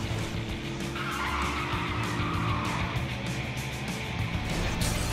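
Tires screech as a car skids through a chase in Grand Theft Auto V, a steady, loud game mix of engine roar and sliding rubber with no talk over it.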